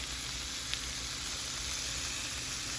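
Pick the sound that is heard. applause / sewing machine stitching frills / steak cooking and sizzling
steak cooking and sizzling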